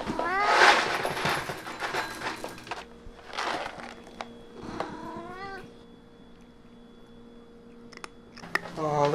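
A hungry cat meows loudly and repeatedly while being fed, several drawn-out cries near the microphone separated by pauses with faint background noise.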